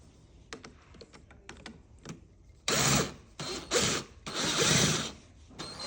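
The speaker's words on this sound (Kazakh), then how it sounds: "И мына жақтан шүріпі бәрін бұрай саламыз." Screws driven in while a door lock is installed on an iron exterior door. Light, scattered clicks and taps come first, then loud, grinding bursts of screwing that stop and start, close by.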